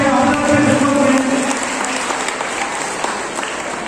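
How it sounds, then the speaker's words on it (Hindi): A crowd applauds steadily throughout at the inauguration of an Islamic quiz and naat competition, a dense wash of clapping that holds strong from start to finish. "सब तालियां बजनी चाहिए हज़रत के खिदमत में"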